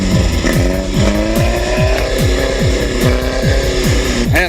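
A passenger jeepney's engine revs hard as the driver accelerates, a loud close roar climbing in pitch through several quick gear-like surges in a repeating pattern, with no talk.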